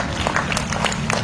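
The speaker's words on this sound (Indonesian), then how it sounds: "Berikan sorak-sorai buat Tuhan." A church congregation cheers and claps together in a short, dense burst of crowd noise that stays loud and steady throughout.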